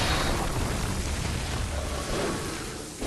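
A deep, rumbling blast in Bloodborne fills the whole clip with dense broadband noise, loud and sustained, easing slightly toward the end like a video game explosion.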